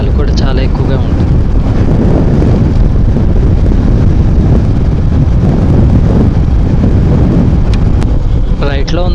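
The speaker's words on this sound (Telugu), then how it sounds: "అలాగే గాలి కూడా చాలా ఎక్కువగా ఉంటుంది." Strong wind buffets the microphone during a solo motorcycle ride from Srisailam to Nandyal, past open farm fields on both sides of the road; a loud, steady roar runs through the whole stretch without letup.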